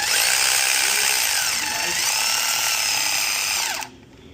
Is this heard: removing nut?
yes